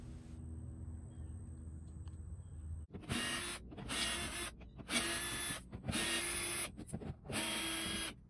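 A power tool backs out 7mm wheel well screws on a Chevy Tahoe front bumper cover, with a series of about five loud, close whirring bursts separated by short pauses after a quiet stretch.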